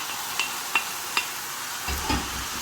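Tomatoes with spices stirred in hot oil with cinnamon stick and onion, a steady frying sizzle broken by three sharp spoon taps and a thicker stirring scrape near the end.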